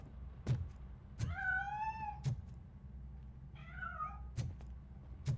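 A cat in the video game RoboCop: Rogue City gives two clear, drawn-out meows at close range, between sharp metallic clicks and a low room hum.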